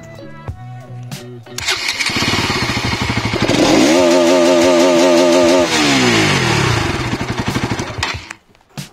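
A Bajaj Pulsar NS200 BS6 motorcycle starts up and revs, its exhaust note rising into a loud, rough rasp that climbs and falls in pitch before settling, close by with no talking.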